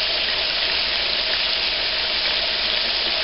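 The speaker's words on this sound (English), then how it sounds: "I'm sauteing bacon until it creates a nice" Bacon slices sauté in a pan until crisp, rendering their fat. The result is a loud, even, unbroken sizzle close up, with no speech over it.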